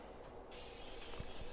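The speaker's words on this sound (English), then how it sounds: "first thing we're gonna use is the coconut oil cooking spray" Coconut oil cooking spray hisses onto a skillet in one continuous close burst, faint overall but steady.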